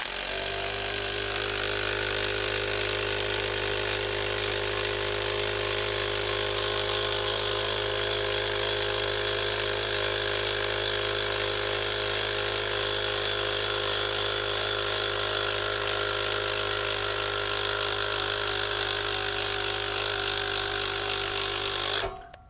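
A scissor jack lifts a Kawasaki H2 motorcycle from under its chassis tube, giving a loud, steady mechanical drone with a constant tonal hum that runs unbroken for about 22 seconds before cutting off abruptly.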